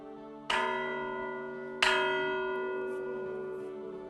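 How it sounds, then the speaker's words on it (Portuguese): Two deep, resonant church tower bell strikes ring out a little over a second apart, each leaving a long, slowly fading hum. "como veem, tem aqui uns excelentes sinos"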